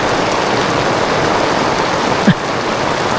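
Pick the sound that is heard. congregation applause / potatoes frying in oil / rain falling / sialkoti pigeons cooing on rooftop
rain falling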